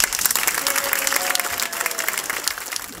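Audience applause for a volunteer sports award nominee at a municipal awards ceremony in Epe, Netherlands: steady, dense clapping from a room full of people, loud and close, running throughout.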